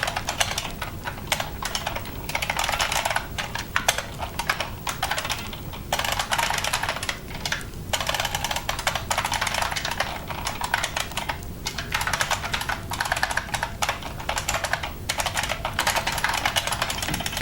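Steady, rapid clatter of a computer keyboard being typed on while coding, close and continuous with brief pauses between bursts, no voices.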